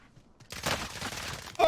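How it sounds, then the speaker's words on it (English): Gunfire in the video game Warzone, fired from a doorway: after a short quiet moment, a sustained rapid burst of shots breaks out and stays loud to the end. "to go ahead and get some shots on the enemy."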